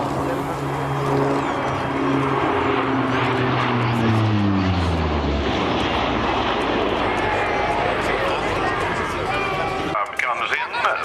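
An RAAF AP-3C Orion four-engine turboprop flies past at the Richmond air show, its loud propeller drone sliding down in pitch as it passes close by, then settling into a steady roar. A voice is heard briefly.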